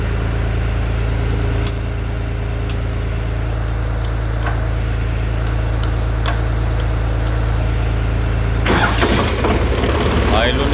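A tractor engine with DCPC control levers and power steering cranks over and catches, then settles into a loud, steady diesel idle that runs throughout, with brief clicks and a rougher burst near the end.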